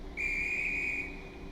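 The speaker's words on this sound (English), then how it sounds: "So he blows the whistle once, and then we shut the doors." A railway guard in the Stepford County Railway video game blows one sustained shrill whistle blast, steady and clear for about a second before fading away over a low background hum.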